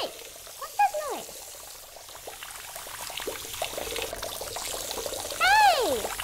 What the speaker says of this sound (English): Hey, why are all these sinks running?